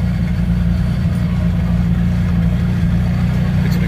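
An orange McLaren 600LT sports car idles nearby at a cars-and-cocktails meet, its exhaust giving a steady, loud, deep rumble that holds evenly throughout.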